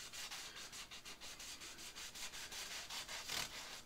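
A finish is rubbed by hand onto rough sawn wood in quick, rhythmic scrubbing strokes, each a soft, faint swish repeated steadily without pause.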